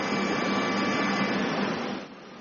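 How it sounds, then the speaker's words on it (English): Vacuum lifter moving computer servers into boxes in a factory: a loud, steady broadband suction roar, like a strong air pump, holding constant and then dropping off abruptly near the end. "They use a vacuum to move them"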